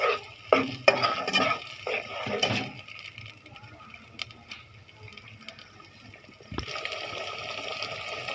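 Ginger and garlic paste stir-fried in a pan, with a few sharp scrapes and clatters at first, then a quieter sizzle that swells again near the end.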